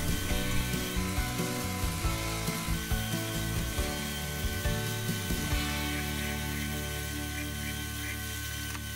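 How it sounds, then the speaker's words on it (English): A lathe whirs while machining a small flame-eater engine crankshaft, with a chattering, rhythmic mechanical rattle for several seconds before settling into a smoother steady hum. "A final machining to remove the center drill support hole, a chamfer and a slight sanding"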